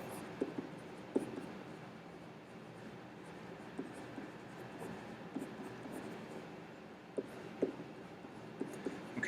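Pen writing geometry notes about circle circumference in green ink, soft scratchy strokes with scattered small taps, close but quiet over a faint steady room hiss, no speech.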